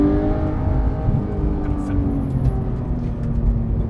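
A Porsche 991.2 911 GT3 engine revs hard through a no-lift shift, a loud steady mechanical drone with rising harmonics heard from inside the car.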